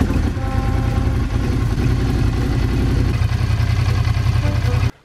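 A rebuilt Ducati Hypermotard motorcycle runs at a steady, rough idle close by, its engine note filling the whole stretch before cutting off abruptly at the end.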